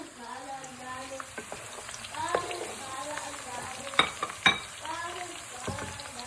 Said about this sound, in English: Now we stir it. We just get it all around to make the onions go dip inside the red oil.